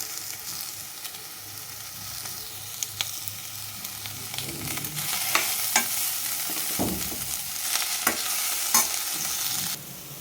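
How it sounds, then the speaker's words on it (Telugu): Brinjal and onion curry with curry leaves and turmeric sizzles in a pan while being stirred, a continuous close frying hiss with scattered scraping clicks that grows busier toward the end, with no speech. "ఇప్పుడు కొద్దిగా కరివేపాకు పసుపు వేసి బాగా కలపాలి."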